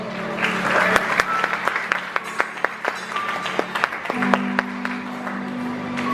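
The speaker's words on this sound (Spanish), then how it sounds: "Dale un fuerte aplauso." Scattered clapping from a church congregation during a sermon, sharp individual claps over a steady sustained musical tone, fairly close.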